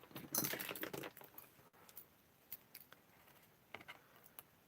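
Scissors snip through cardstock while cutting out a shape at a crafting desk, a burst of quick close crunching cuts followed by scattered sharp snips, fairly quiet.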